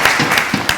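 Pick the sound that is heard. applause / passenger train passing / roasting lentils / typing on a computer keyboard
applause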